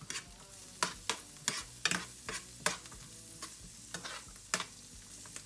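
Food stirred in a hot frying pan over fairly high heat: a steady soft sizzle punctuated by roughly a dozen sharp scraping clicks of the utensil against the pan, irregularly spaced and close up.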